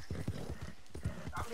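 Horse hooves in Red Dead Redemption 2 clip-clop in a quick, even rhythm close by, with a voice speaking over the steps.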